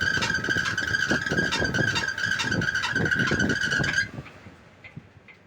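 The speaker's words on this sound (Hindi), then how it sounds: "इसका मोटर और ये इसका ब्लोअर है, दोनों रनिंग हो रहा है" Motor and blower of an air handling unit running with a loud, steady whine and tonal hum over rough rumbling, then cutting off and fading after about four seconds.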